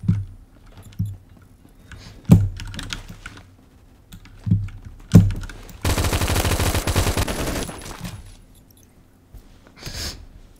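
Rapid automatic M4A1 rifle fire in the shooter game Phantom Forces: scattered single sharp shots, then a dense sustained burst lasting about two seconds, with quieter clicks and a final short volley, all loud and close.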